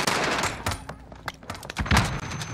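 Rapid gunfire bursts from Call of Duty Modern Warfare Warzone, close and loud, with sharp overlapping shots and thumps across the whole stretch.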